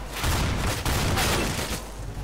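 A dense burst of Counter-Strike: Global Offensive gunfire, loud and close, with overlapping rapid shots and a brief gap before the firing resumes.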